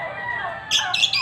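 A small bird gives several sharp squawks in close succession near the end, loud and close, after a stretch of quieter background chirping.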